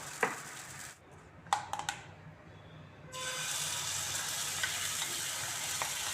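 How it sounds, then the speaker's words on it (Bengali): Small maida flour dough snacks fry in a pan for a breakfast tiffin: a few sharp clinks and scrapes of a utensil turning them come first, then a steady close sizzle of hot oil takes over. "আমি একটা একটা করে সবকটা ভেজে নিচ্ছি"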